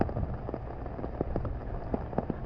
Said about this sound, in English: sudden torrential downpours of rain